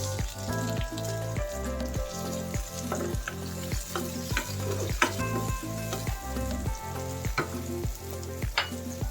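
Garlic and tomato stir-fry in a pan with a close, steady sizzle, punctuated by regular rhythmic scrapes and taps of a spatula stirring against the pan.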